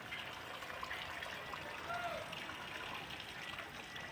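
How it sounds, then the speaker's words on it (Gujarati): Dirty water from labourers' toilets behind a Swaminarayan temple in Jetpur trickles and dribbles steadily onto a paved road, a faint continuous wash with no voices over it. "આ બધું પાણી અહીંયાથી હે ને રોડ ઉપર જાય છે"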